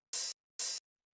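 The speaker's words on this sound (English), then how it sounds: "Then we have this open hi-hat" Two isolated open hi-hat sample hits, each a bright, hissy wash lasting about a fifth of a second with a clean cutoff, spaced evenly apart as if on the upbeats, played alone with no other instruments.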